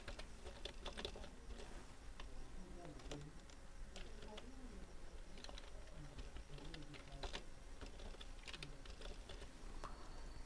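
Quick irregular clicks of typing on a computer keyboard, faint and steady over a low noisy background, with a voice murmuring under the keystrokes.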